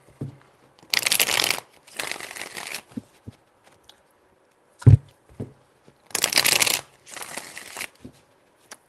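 Tarot cards riffle and shuffle up close in four crisp bursts arranged as two pairs, with a sharp tap on the table between them and quiet gaps around each flurry.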